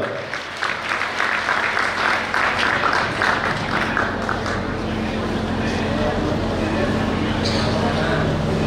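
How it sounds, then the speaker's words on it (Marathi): Sustained applause from a crowd at a religious leader's birthday celebration at a math, dense and steady, holding at a fairly loud level throughout with some voices mixed in. "कृपया जोरदार टाळ्या वाजवा."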